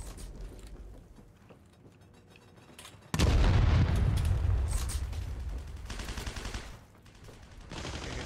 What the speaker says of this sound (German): Warten, bis die Granate durch ist.